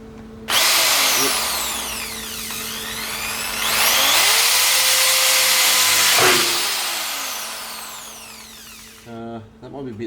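Spot welding a patch plate onto the lower radiator support of a 1965 Ford Falcon, with a loud, steady crackling buzz of sustained welding bursts that ends abruptly near the close.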